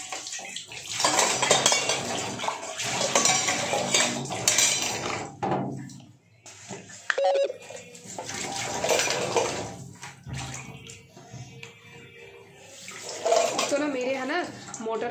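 Dishes, pots and pans being washed under cold tap water, with clinking cutlery and running water that continue through most of the stretch, easing briefly near the middle.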